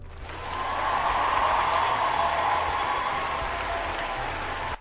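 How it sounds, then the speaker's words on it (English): Audience applause swells quickly into a dense, sustained wash of clapping, holds steady for a few seconds, then cuts off abruptly. "a round of applause"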